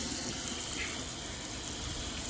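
Water runs from a hose at a fish-cleaning station, a steady close hiss of flowing spray that continues without a break and with no talking.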